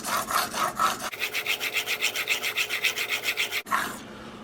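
A knife blade, a Rage knock-off, strokes rapidly back and forth across a 1200 grit whetstone, an even run of about twenty scraping passes with a brief pause partway through.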